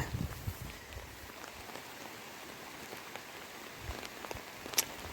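Steady rain falls on a paddy field in a village, a dense even patter of drops with a few sharper nearby splashes, heard alone without talk.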